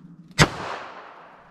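A single .380 ACP pistol shot fired from a short LCP barrel during a ballistic test, one sharp loud crack with a brief decaying tail, outdoors with no talk.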